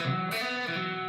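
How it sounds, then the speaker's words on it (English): A distorted electric guitar plays a quick grace note sliding into a held one, then another pair, clear and close with no talking. "Okay, that's grace noting."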